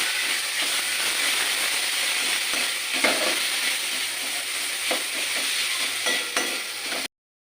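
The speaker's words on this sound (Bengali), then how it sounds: "আদা রসুন পুরো মশলাটা ভেজে নেবো" Ginger-garlic spice paste with salt and turmeric sizzling in a pan with onions, a loud steady frying hiss with occasional stirring scrapes, no talk, cutting off abruptly.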